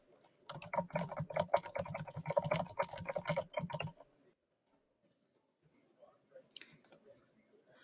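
Rapid, close clicking from a computer mouse and keyboard while a comment is filled in online fills the first four seconds, then stops into near silence with a few faint scattered clicks near the end.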